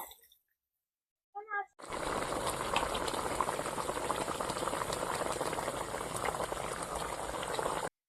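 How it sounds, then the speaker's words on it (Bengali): Hilsa fish curry with mustard paste simmers in a pot after water is added, giving a continuous bubbling boil and hiss that starts abruptly following a short near-silent gap with a brief faint sound. "এবার আমি পরিমাণ মতো জল দিয়ে দেব"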